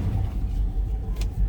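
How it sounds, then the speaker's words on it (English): A 1959 Oldsmobile Super 88 two-door bubbletop runs at idle, a steady low rumble close by with a slight uneven pulse, no voices. "Let's go ahead and fire this up, so you can hear it run"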